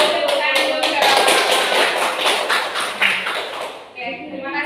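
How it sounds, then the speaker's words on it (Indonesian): An audience at an indoor talk claps and taps for several seconds, a dense close patter that fades toward the end, with voices speaking over it. "Kasih tepuk tangan dulu ke Bapak."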